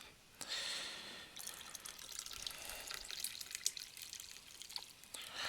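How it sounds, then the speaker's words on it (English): Coffee pouring into a cup in the Animal Crossing: New Horizons game, a soft, faint trickle of liquid with small drip-like splashes that runs continuously for several seconds with no talk. "So I got coffee, so I'm gonna pour 'em up out a cup."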